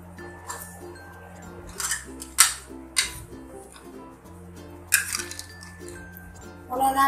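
Ice cubes drop into glasses of 7up for a mint margarita, giving several sharp clinks spread across the stretch, close and fairly loud, over faint background music.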